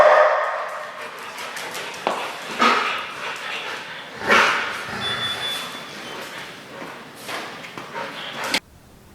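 A trained protection dog at a house gives scattered yips, whimpers and short barks among bumps and scuffles, with people speaking at times and an abrupt stop at the end.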